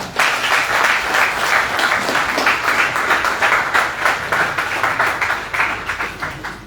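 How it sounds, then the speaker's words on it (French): An audience at a Rotaract and Interact Club ceremony in Mali applauds the AMADER director general, a dense, loud wave of clapping from many hands that stays steady throughout and tapers slightly at the end. "On va acclamer pour monsieur le directeur général de l'AMADER"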